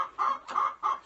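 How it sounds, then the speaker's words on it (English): Farm chickens, a mixed flock including Americana, half-breed and bantam hens, cluck in three short bursts, close and fairly loud, with brief quiet gaps between calls. "But we have a whole bunch of chickens"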